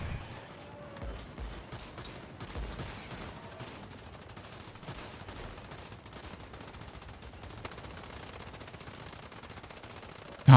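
Gatling gun fire from the video game Once Human rattles in a long, continuous stream of rapid shots, loud and close for about ten seconds, ending in a sharp burst.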